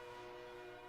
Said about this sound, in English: We can hear them whistling for the crossing.